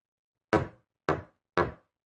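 Three sharp knocks land on a door at an even, unhurried pace, each loud and close and ringing briefly against silence.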